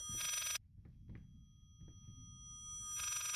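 An old telephone rings in the horror game Layers of Fear, two loud bursts of bell trill separated by a quiet gap of faint thuds and low room rumble.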